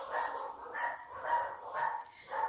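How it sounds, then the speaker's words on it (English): Dogs barking and yipping indoors in a playful burst, repeated rhythmic barks at moderate distance, fairly steady over the whole stretch with no talk over them. "Those are my dogs. They're having a good time."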